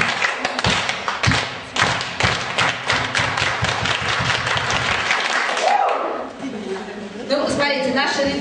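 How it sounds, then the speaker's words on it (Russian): An audience at a school event in Kotlas, Arkhangelsk region, breaks into steady applause. The clapping is close, dense and rhythmic, then fades as a voice starts talking over the last of it. "Ну давайте тогда похлопаем, потому что нам Наталья тут наснимала в Турции."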